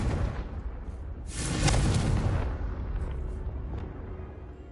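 A Confringo blasting spell goes off in the video game Hogwarts Legacy: a loud, booming explosion bursts in after a brief lead-in, then rumbles and decays into a lingering low roar with scattered debris crackles.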